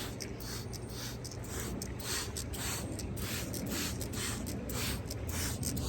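A hand sprayer mists a soaked banana peel solution onto bottle gourd plants, a series of rapid close hissing spritzes in a quick regular rhythm with no talking.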